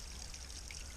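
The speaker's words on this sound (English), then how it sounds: "Just filling up a little bit from a great little natural water source." Water trickling steadily from a natural spring source along a mountain trail while a container is filled, a soft continuous splashing dribble, close but faint.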